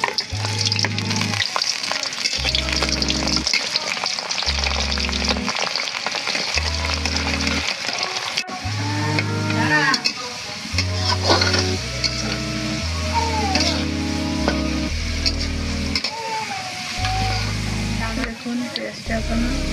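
Chopped onions sizzle and fry loudly in hot mustard oil in a pan, a continuous crackling hiss with occasional stirring, while a low rhythmic hum pulses underneath throughout.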